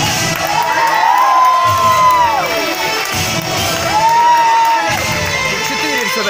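A loud crowd at a dolphinarium show cheers and shouts continuously, with children's high voices whooping through the din and faint high whistling rising over the cheering.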